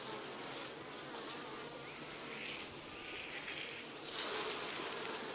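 Honey bees buzz around an opened hive frame in a steady, dense, droning hum that swells slightly near the end, no voices.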